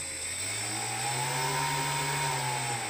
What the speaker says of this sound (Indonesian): ini menandakan motor brushless-nya berjalan dengan bagus dan kondisinya bagus ya jadi tidak tersendat maupun putarannya mampu berputar tinggi